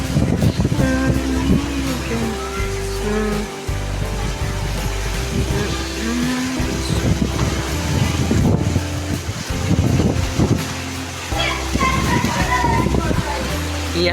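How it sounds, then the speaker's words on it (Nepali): Strong wind gusting outdoors near banana plants, buffeting the microphone with a continuous rumbling roar, while a person talks over it. "यहाँ हेर्न सक्नुहुन्छ कस्तो हावा बगिरहेछ"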